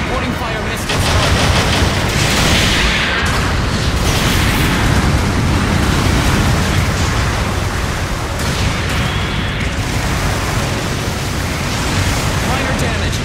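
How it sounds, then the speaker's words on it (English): Long-range supporting fire pounds away in Gundam Battle Operation 2 as a dense, continuous roar of blasts and explosions. It stays loud throughout while radio voices talk over it. "Long range supporting fire incoming."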